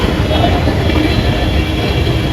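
Metro train rolling past during heavy rain in Electronic City, a loud continuous low rumble with rain noise over the whole stretch.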